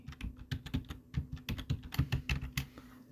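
Rapid clicks of typing on a computer keyboard as a spreadsheet formula is entered, about a dozen quick, close keystrokes in irregular bursts, with no talking.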